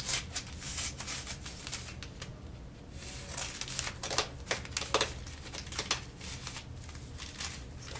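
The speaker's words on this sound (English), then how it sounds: "Cut them a little bit, fold them down, cut them a little bit more." Scissors cut through thick layers of folded paper in a long run of crisp snips and crunching rustles, irregular and fairly quiet, with no speech.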